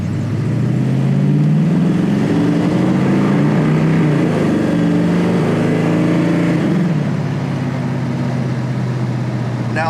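A 1969 Ford Mustang Mach 1 fastback restomod with its engine revving loud and close, rising through several strong pulls before easing back down, with no talk over it.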